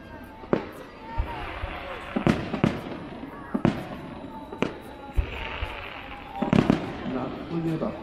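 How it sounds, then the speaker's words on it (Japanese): Repeated booming bursts of aerial fireworks at an anniversary fireworks show at Nagashima Onsen, Japan, at irregular intervals, some sharp cracks and crackles, with crowd noise and voices beneath. "そこからは打ち上げ花火です。"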